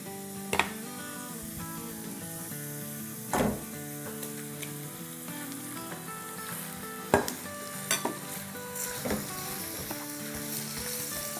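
Coarse hand-chopped mutton mince, about a kilo, going into a hot karahi pan and sizzling steadily, with sharp stirring and scraping clatters of a spoon against the metal standing out above the frying hiss.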